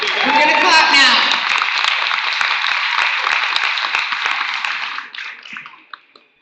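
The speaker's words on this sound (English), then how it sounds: "We're going to clap now." A lunch crowd at a city candidate forum breaks into loud, sustained clapping that thins out and trails off into a few scattered claps near the end.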